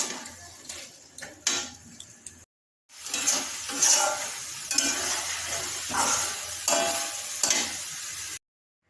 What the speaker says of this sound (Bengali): এবার একটু ঘেঁটে চিংড়ি মাছটা দিয়ে দেবো